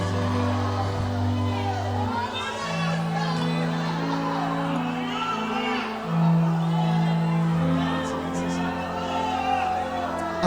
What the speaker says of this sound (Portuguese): Quem pode aplaudir, gritar e dar um pulo para cima?